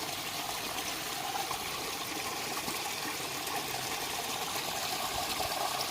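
A garden pond skimmer runs with a steady rush of trickling, splashing water, constant and fairly close, with no voices.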